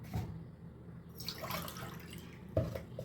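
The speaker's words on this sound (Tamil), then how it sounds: "இப்போ கொஞ்சமாக இதில் தண்ணி ஊற்றி கலந்துக்கலாம்" Water is poured into ragi flour and stirred for a kanji, heard as faint, close splashing and trickling with a few soft drip-like plops.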